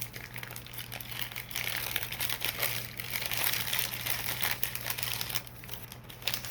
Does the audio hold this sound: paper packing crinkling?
yes